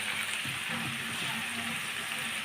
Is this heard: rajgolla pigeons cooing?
no